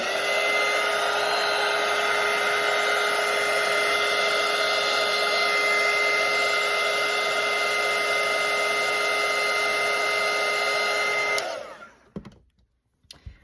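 A hair dryer blows over a watercolour painting of stacked pumpkins, making a steady loud whine and rush that runs unbroken for about eleven seconds before switching off abruptly, followed by a few faint clicks.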